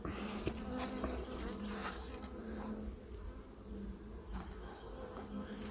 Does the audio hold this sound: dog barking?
no